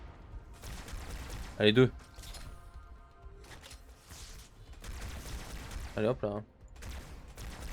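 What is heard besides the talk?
gunfire in the video game Halo 2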